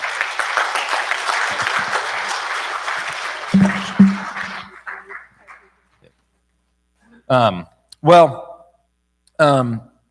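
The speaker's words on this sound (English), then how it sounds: "Let's give Jim and Sue a big round of applause" A church congregation claps for about four seconds before the applause fades out, followed by a few short, separate vocal bursts after a pause.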